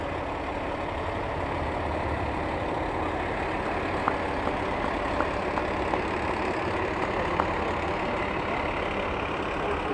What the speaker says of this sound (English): a 2009 Peterbilt Horton Heavy Rescue Truck.